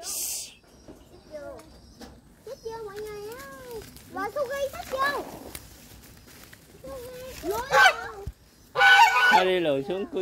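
Geese honk repeatedly in a rural yard with fish ponds in Tiền Giang, Vietnam, the nasal calls rising and falling close by, with louder bursts toward the end and people talking among them.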